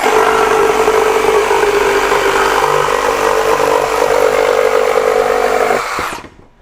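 A Makita 40V XGT GRJ02 reciprocating saw runs at its maximum speed setting of 5. It makes a loud, steady, buzzing roar that holds for about six seconds, then winds down abruptly near the end.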